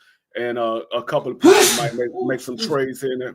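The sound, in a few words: sneeze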